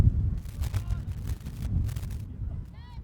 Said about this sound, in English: Once again, a little bit windy here